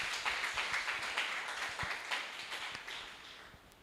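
Congregation applauding for the Lord during a French-language church sermon, a steady wash of many hands clapping at moderate distance with scattered sharper individual claps, no voices over it.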